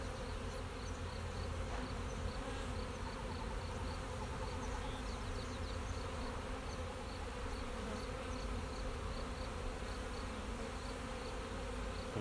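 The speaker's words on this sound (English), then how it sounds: "looks like we got bees all over." Many bees in a hive hum in a thick, unbroken buzz, steady and close, filling the whole stretch without any talking.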